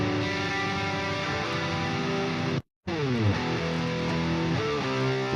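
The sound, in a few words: guitar amp plugin full crunch distortion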